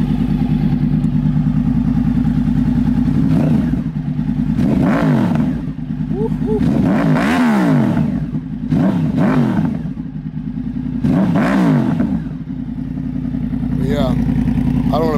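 A warmed-up Yamaha R1 sport motorcycle idles steadily close by, then its engine is revved in several sharp bursts that rise and fall back to idle.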